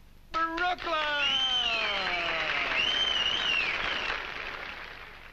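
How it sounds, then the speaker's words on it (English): A 1950s studio audience at a game show breaks into loud, sustained applause after an excited voice calls out briefly, the clapping holding steady and then easing slightly toward the end. "I fail to see why the location of birth should be met with applause."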